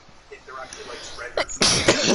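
A person sneezes once, sharply and fairly close, right after another person speaks briefly during a relaxed gaming chat.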